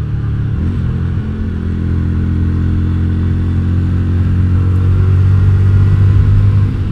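Yamaha Virago XV250 motorcycle engine, a loud, close, low throbbing idle that rises into a steady rev with rumbling exhaust, no voices.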